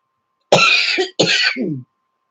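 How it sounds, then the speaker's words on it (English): Two harsh coughs in quick succession, close and loud, each trailing off into a short throaty rasp. "You'll have to excuse this cough."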